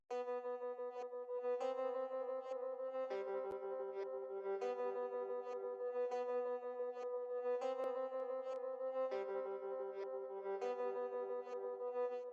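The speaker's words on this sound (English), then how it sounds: "I had this Nami electric guitar tremolo" Sampled electric guitar tremolo patch from a Nami plugin plays a repeating pattern of sustained notes that shift in pitch on a regular cycle, clean and fairly quiet, with no voices.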